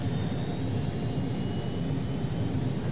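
Steady roaring whine of a simulated Embraer Phenom business jet's engines from a Carenado add-on in FSX, a continuous broadband rush with high tonal whistles, constant and loud throughout.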